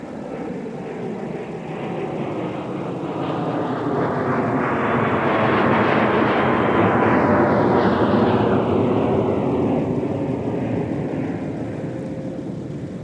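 An airliner takes off from a snowy Minneapolis airport runway, its jet roar swelling steadily from a distance, peaking loud and broad in the middle, then easing slightly as it climbs away.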